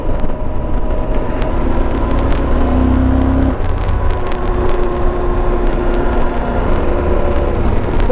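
A Yamaha Ténéré motorcycle's engine drones steadily and loudly throughout, with a brief rising rev mid-ride as the rear brake is tested and a small wheelie is lifted, constant wind and road rumble underneath.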